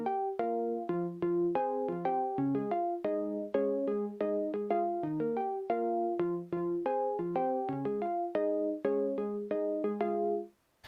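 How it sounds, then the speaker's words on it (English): Pure triangle-wave synth octave patch with a bit of attack, playing a steady run of plucky repeated notes in a pop riff, alone and evenly loud before cutting off at the end. "it's a very pure sounding sound with a bit of attack"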